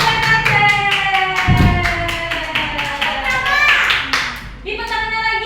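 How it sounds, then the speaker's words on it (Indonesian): Children applaud for a classmate named Acel during an online class, a lively burst of clapping that runs steadily through with some tonal sounds mixed in and fades near the end. "Tepuk tangan buat Acel."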